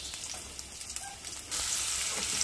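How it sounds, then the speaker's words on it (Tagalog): Garlic and onion sauté in rendered pork fat, a quiet hiss with a few small ticks and stirs that jumps to a louder, brighter sizzle halfway through as the aromatics hit the pan. "Kaya pwede na natin igisa yung bawang dyan at saka sibuyas."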